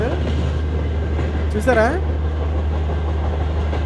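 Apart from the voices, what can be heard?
long train passing in an Indian train simulator video game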